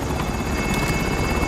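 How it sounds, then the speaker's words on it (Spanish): An attack helicopter in the video game Call of Duty: Modern Warfare roars loudly and steadily, its rotor chop and engine drone continuous and close with no voices. "Helicóptero de ataque enemigo en camino."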